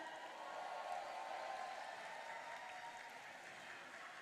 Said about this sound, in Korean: 격려 박수 부탁드립니다